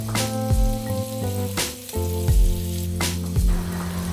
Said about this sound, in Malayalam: എള്ളെണ്ണയിലാണ് ഇത് ഫ്രൈ ചെയ്യേണ്ടത്